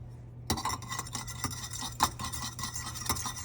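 Puerto Rican bacalao salad of salted cod and potatoes with crushed red pepper is stirred in a bowl, a utensil scraping and clinking in quick, irregular strokes after a brief silent start, close and quiet.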